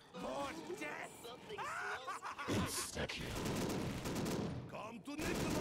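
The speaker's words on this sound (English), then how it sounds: "your gun sounds crazy" Rapid gunfire from a weapon in Black Ops 3 custom Zombies, the Storage of the Dead map, bursts crackling through most of the stretch while players talk and exclaim over it.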